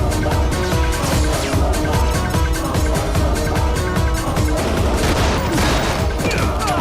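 Gunfire in a Hindi action movie, rapid bursts of shots crackling continuously at high volume with crashes and booms mixed into a dense battle soundtrack.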